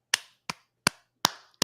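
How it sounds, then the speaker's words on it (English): Five sharp, isolated hand claps ring out at a steady pace, close and fairly quiet, each with a short decay; a lone person applauding on a live call-in podcast. "So we got to give a round of applause to these two brothers."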